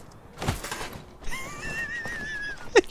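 A horse in the video game Mordhau whinnies with a rising, wavering neigh, joined by a few thumps and hoof-like clops, close and fairly quiet.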